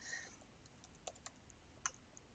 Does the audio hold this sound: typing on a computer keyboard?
yes